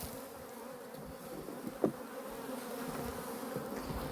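Honeybees swarm around an open hive with a dense, steady drone, restless and agitated from being handled without smoke. One soft thump stands out briefly, and no one speaks.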